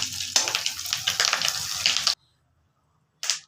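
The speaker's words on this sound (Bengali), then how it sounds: "দুবারে ভাজতে হবে, তাই মানে অল্প অল্প করে ভাজছি" Lentil fritters (bora) frying in oil in a wok, a close bubbling sizzle with irregular pops that cuts off abruptly into silence, then briefly returns at the end.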